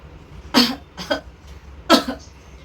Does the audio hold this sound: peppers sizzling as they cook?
no